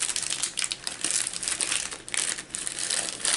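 Plastic mail packaging crinkles and crumples close up as a package is opened, a busy run of irregular rustles and crackles.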